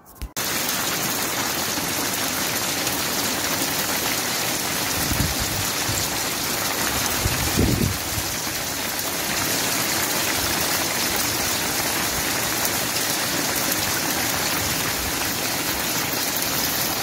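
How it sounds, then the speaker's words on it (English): Heavy rain mixed with hailstones falling outside a doorway in Gateshead, a dense continuous hiss and patter that stays loud and steady, with a few brief knocks and thumps near the middle and no voices. "Rain and hailstone."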